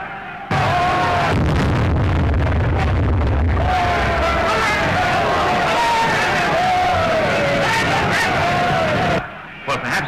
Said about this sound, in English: The crowd outside are in a terrible state of excitement.